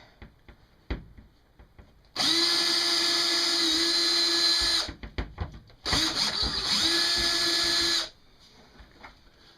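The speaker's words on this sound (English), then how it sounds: "I'm gonna go drilling around the drain here" A power drill whines loudly in two sustained bursts of about three seconds each, drilling into a floor around a bathtub drain, separated by a short pause, with a few scattered knocks before and between.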